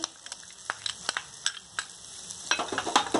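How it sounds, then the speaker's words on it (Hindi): Green chilies and carrots sizzle and crackle in a hot pan, with sharp intermittent pops and stirring scrapes over a steady frying hiss, close up. "इसे थोड़ा सा मैं एक दो मिनट भून लूंगी"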